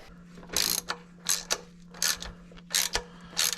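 Ratchet wrench tightening a part under a 1982 Mercedes 300D turbo diesel, heard as four or five short bursts of rapid clicking spaced by brief pauses, close and fairly loud over a steady low hum.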